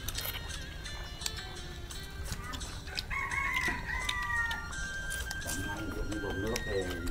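Chickens and a rooster sound off at a family home, the rooster's drawn-out crow rising midway over steady clucking and background clatter while people talk nearby.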